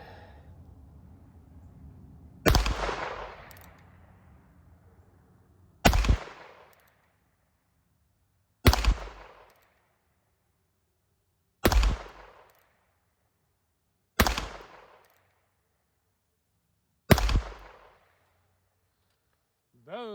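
Six sharp shots from an H&R 686 revolver firing .22 Magnum rounds outdoors, each crack spaced a few seconds apart with a short ringing decay, loud and close; a voice is briefly heard at the end.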